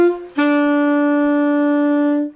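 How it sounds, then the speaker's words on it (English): Alto saxophone sounding a short blip followed by one long sustained, bright, steady note, close and clear, with no talking. "I'm going to switch over to alto sax just for something different"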